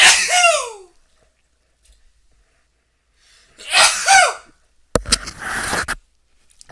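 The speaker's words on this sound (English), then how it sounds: "I gotta sneeze." A sharp sneeze bursts out, followed by a pause and a second sneeze, then some rustling and clattering handling noise close to the microphone.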